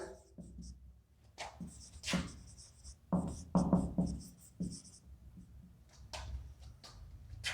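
Chalk or marker writing on a board during a zoology lesson, giving bursts of scratchy strokes and taps between pauses, close by, with faint room noise.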